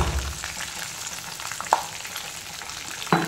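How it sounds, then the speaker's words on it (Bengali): Bay leaf, dried chilli and whole spices sizzle in hot oil, giving a steady crackling fry with two sharp pops partway through, close and fairly quiet. "ওই গরম তেলেই আমি দিয়ে দিচ্ছি তেজপাতা, শুকনো লঙ্কা, গোটা গরম মশলা"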